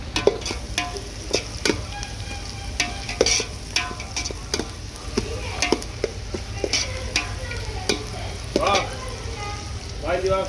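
Sautéing onion and green chilli in a pan gives a steady sizzle broken by repeated scraping and clacking strokes of a spatula, close and fairly loud.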